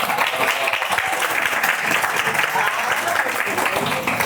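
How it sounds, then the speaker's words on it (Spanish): Sustained applause from an audience at a community cultural event, dense and steady clapping throughout with a faint murmur of voices underneath. "Un aplauso, por favor."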